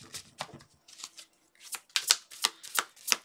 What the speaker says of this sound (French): On va chercher un 8 cartes.